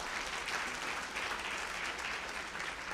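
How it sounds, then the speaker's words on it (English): Faint audience applause at a sisterhood organization's general meeting, a steady, even patter of clapping lasting the whole stretch at low level. "Give her a round of applause, would you?"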